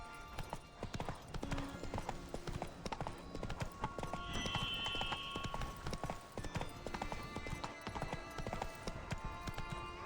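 Horse hooves gallop in The Witcher 3 video game, a fast, continuous clip-clop rhythm heard close up over game ambience, with a brief whinny-like tone partway through.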